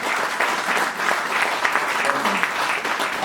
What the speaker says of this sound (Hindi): सभी के लिए एक बार जोरदार तालियां हो जाए